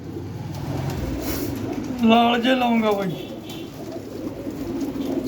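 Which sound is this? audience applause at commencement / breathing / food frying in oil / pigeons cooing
pigeons cooing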